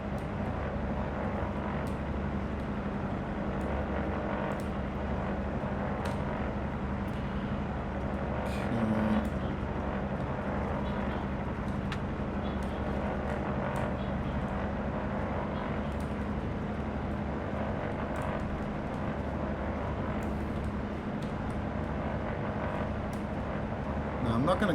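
An airplane engine in the X-Plane 11 flight simulator hums steadily at reduced throttle on a crosswind landing approach, a continuous low drone with faint clicks and a voice talking over it.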